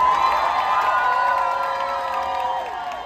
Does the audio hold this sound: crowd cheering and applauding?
yes